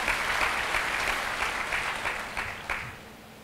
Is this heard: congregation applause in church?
yes